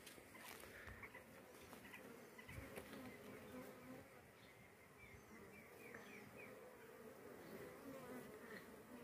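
Honey bees swarming around hives at a Brazilian apiary, a dense continuous buzz of many insects close by, with individual bees whining past the ear now and then; no talking.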